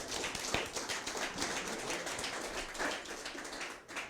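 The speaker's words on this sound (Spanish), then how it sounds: "denle un aplauso al Señor si es para Él" A church congregation claps in dense, steady applause at moderate distance, the sound sustained throughout without talk.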